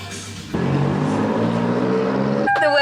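A passing car on a Las Vegas street sounds its horn, with a loud sustained blare starting abruptly and a second, sharper toned honk near the end over traffic noise.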